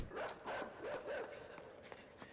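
In the game Inside, a dog barks and whimpers in a quick series of four short yelping barks with a whiny, rising tone, fairly close, trailing off into faint rustling.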